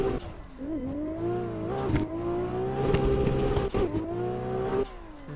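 A race car engine in a driving video game, heard from outside the car, revs loudly with rising and falling pitch, sharp gear shifts and brief throttle lifts, and a drifting tire squeal at times.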